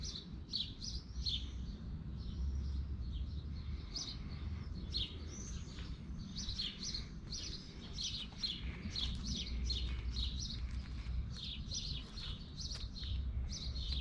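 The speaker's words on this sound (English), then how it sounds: "all you can hear is the birds" Birds chirp and tweet in quick, high bursts over a steady low background rumble, several calls overlapping at a moderate distance, at Belgrade Fortress overlooking the Danube, Serbia.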